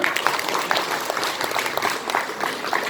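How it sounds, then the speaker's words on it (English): A hall full of attendees at a sales training session in Nepal clap for themselves, producing loud, dense, continuous applause with scattered sharper claps throughout. "give yourself a round of applause"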